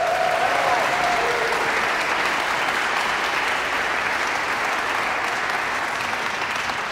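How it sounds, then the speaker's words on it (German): Audience applause in the Wiener Konzerthaus concert hall, a dense, sustained wash of many hands clapping at steady loudness, fading slightly toward the end. "Applaus!"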